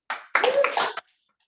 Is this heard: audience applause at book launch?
yes